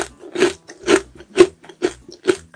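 Crunchy burdock-flavored snack being chewed up close, a steady series of about six loud, crisp crunches in an even rhythm.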